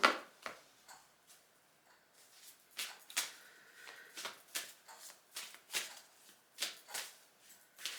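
Tarot cards shuffled close by in a steady run of soft riffling bursts, each a quick papery flutter with brief pauses between, quiet and without talk.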